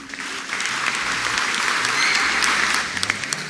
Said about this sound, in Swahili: Tumpigie makofi vizuri.